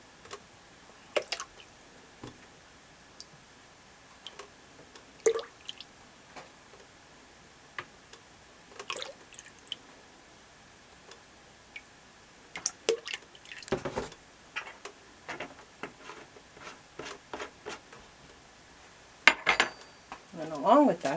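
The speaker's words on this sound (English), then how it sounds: "We want 4 tablespoons of sweet almond oil." Sweet almond oil is measured out by the tablespoon with sparse, irregular metallic ticks and clinks of spoon against container over a near-silent background, growing busier toward the end, close and quiet.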